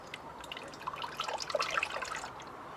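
Coolant poured into a Cosworth car, gurgling and glugging in quick irregular bubbles, faint and close, with no talking.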